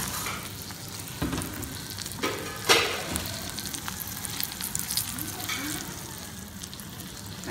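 Okra omelette frying in hot oil in a home kitchen, a steady close sizzle and crackle with a few louder spatters and scraping stirs.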